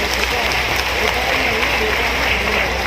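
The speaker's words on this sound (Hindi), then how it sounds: "ताली बजा के उनका भी स्वागत कीजिए" A crowd at a Kushwaha community gathering applauds to welcome JP Verma, loud continuous clapping that fills the space, with a voice carrying over it.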